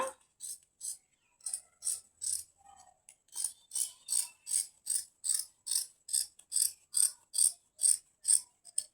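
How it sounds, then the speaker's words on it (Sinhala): Scissors cutting fabric for a tight skirt make a long series of crisp, evenly spaced snips close by, steady and growing slightly louder, with no talking. "ඊට පස්සේ අපි මේක කපා ගමු."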